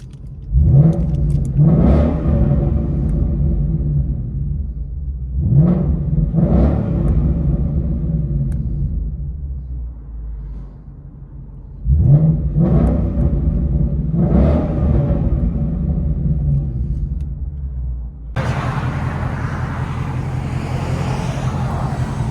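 A 2016 Ford Mustang GT with a 5.0L V8, Flowmaster X-Pipe and X-Force valved exhaust, valves open, revs up repeatedly in deep rising roars that fall back to a rumbling idle, followed by a steady broad hiss.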